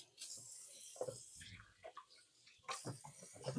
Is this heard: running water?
yes